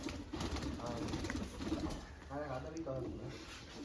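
Pigeons coo softly through the clip beneath a steady murmur of background noise, with people talking nearby.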